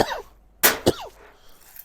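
A person gives two sharp coughs in quick succession, close and loud, after a brief vocal sound and before faint trailing noise.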